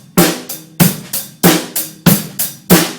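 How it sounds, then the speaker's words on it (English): A loud, steady drum-kit beat in a repeating pattern of hi-hat, kick and snare, with sharp hits alternating between deeper kick thumps and cracking snare strikes, crisp and close. "I'm going to teach you how to play drums today."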